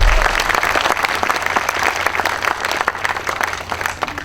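Audience in a hall breaking into loud, sustained applause, dense clapping continuing steadily for several seconds without talk.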